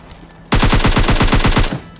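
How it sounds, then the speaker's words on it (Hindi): A loud, rapid burst of automatic gunfire from the mobile shooter game PUBG Mobile Lite: about a dozen evenly spaced shots over a little more than a second, following near-silence. "अब पीछे की तरह आपने फायर साउंड तो सुन ही लिया। कोई बंदा भाई फायर कर रहा था"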